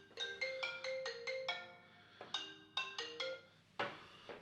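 A phone ringtone plays as a quiet melodic tone sequence, a run of short rising and falling beeps repeated in two phrases with a brief gap between them and no talk over it.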